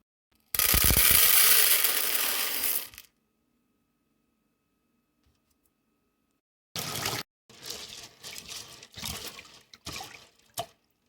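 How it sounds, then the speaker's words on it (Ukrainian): Water gushes into a pot for a few seconds, then after a pause comes sloshing and rattling as dried peas are swirled and rinsed in it. "висипаємо горох в кастрюльку і промиваємо добре до прозорості води"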